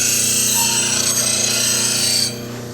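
Woodturning bowl gouge being swept across a bench grinder wheel, a steady close grinding hiss over the motor's hum for about two seconds before the tool lifts off and the motor runs on.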